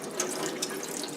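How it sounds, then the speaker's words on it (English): Tap water running and flushing through an N95 face mask, a steady soft splashing stream with faint drips and no voices. "I want to have the water kind of flush through."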